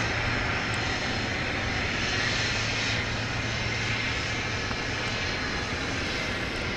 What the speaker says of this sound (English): Right behind that is Southwest 4190 coming in from LaGuardia Airport in New York. 737-700.